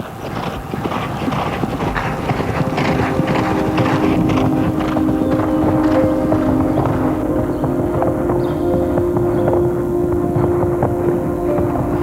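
A Thoroughbred horse gallops on a track with a rapid, continuous drumming of hoofbeats under heavy wind rush, steady and close throughout.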